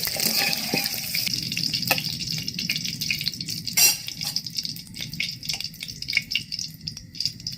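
Duck eggs frying in hot oil and being lifted out with a spatula: continuous bubbling sizzle with intermittent metallic scrapes and clinks, close and fairly loud.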